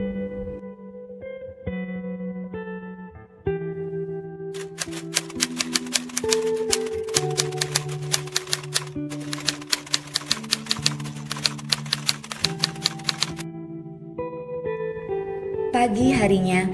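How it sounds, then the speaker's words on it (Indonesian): Typewriter keys clatter in quick irregular bursts over a musical backing with reverb, striking steadily for several seconds before stopping as the music carries on. "Teks proklamasi Indonesia diketik oleh Sayuti Malik."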